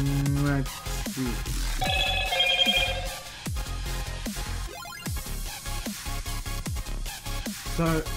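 A phone ringtone sounds for an incoming call, its melodic tones repeating loudly through most of the stretch over background music-like content.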